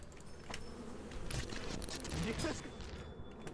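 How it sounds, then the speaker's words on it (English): A beehive in the video game Lethal Company gives off a low, steady insect buzz under faint game ambience, with a soft mechanical whir throughout. "There's a beehive over here I'm gonna grab."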